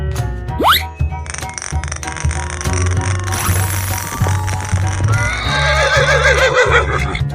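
In a 3D animal slide game, a horse whinnies with a quick rising squeal and then a long, wavering neigh, heard loud over cheerful looping game music and sound effects.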